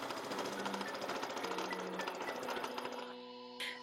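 A sewing machine stitches bias binding onto a garment sleeve in a steady, rapid mechanical rattle, running continuously close by before slowing and stopping near the end, with no talking.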